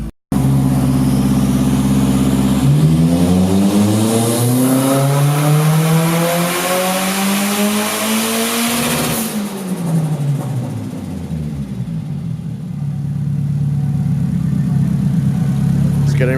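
A turbocharged SR20 engine in a Nissan 240SX notchtop pulls up close and loud. It idles, then the revs climb and fall smoothly before settling back to a low rumble.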